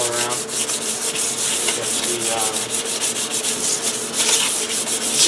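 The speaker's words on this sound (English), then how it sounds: "Go around and lightly sand it all around." Sandpaper rubbed around a glazed brake drum by hand, a loud, close, continuous rasping scrape with rhythmic back-and-forth strokes throughout, with a brief spoken word.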